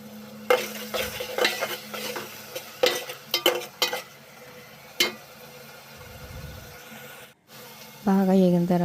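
Onion paste with chopped vegetables and tomatoes in a pan, heard as repeated stirring clinks and scrapes of a utensil against the pan over a low background, ending in a brief louder tonal burst.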